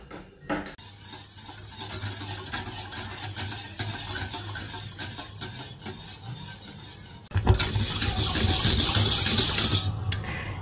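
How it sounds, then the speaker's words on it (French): Steady scraping and rubbing of a utensil stirring pastry cream in a saucepan on the heat, continuous and close, with a low hum and a louder, brighter stretch near the end. "on va placer la casserole sur le feu et on va remuer jusqu'à épaississement"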